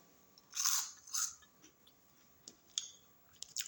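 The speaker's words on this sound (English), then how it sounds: "I'm actually going to bite into one of these so you can hear what a hard solid sounds like." A person bites into hard, crunchy Cheeto Puffs, a few loud, close crunches followed by fainter chewing clicks in otherwise quiet surroundings.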